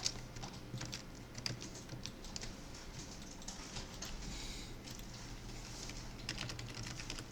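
Close, soft clicks of a computer keyboard, with scattered key taps and spacebar presses during CAD modelling work, steady and quiet with no voices.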